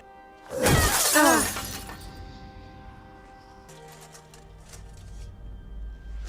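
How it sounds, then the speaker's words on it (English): Glass shatters loudly and close, a sharp crash followed by a second burst of breaking, then scattered fragments tinkle and settle over quieter background sound. "Broken glass"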